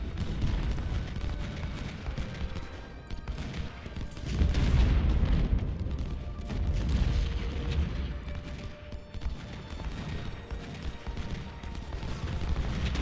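Artillery cannons in the Civil War video game Ultimate General: Civil War boom repeatedly, with irregular heavy blasts and rumbling volleys that overlap into a continuous barrage, swelling loudest in the middle.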